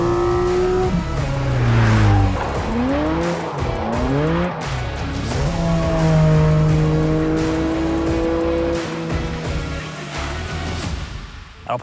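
A Porsche 718 Cayman GT4 RS is driven hard on a race circuit. The loud engine rises and falls through repeated gear changes, with tires squealing through the corners and no talking.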